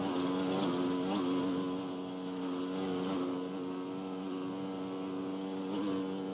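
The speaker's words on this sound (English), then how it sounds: "Quite a strong wind is this." A strong headwind buffets a small action-camera microphone while heading into it, giving a continuous rushing roar with gusty swells and a steady droning hum underneath.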